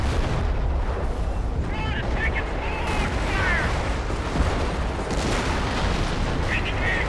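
Company of Heroes artillery barrage: a dense wall of booming, rumbling blasts and gunfire rolling continuously, loud and heavy in the low end, with faint whistling tones over it and a voice talking at times.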